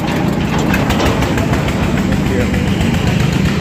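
A Ford 3600 tractor engine idles nearby with a loud, steady, low chugging throb that runs unbroken, while people talk over it.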